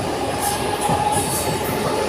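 A fast local commuter train at Kurla station, Mumbai, rumbles along steadily at close range, with a constant roar of wheels on track and brief high metallic squeals riding on top.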